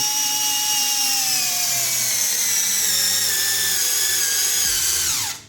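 A tiny cordless screwdriver from AliExpress drives a wood screw into a tree stump, its high motor whine running continuously and slowly dropping in pitch under load before cutting off sharply at the end.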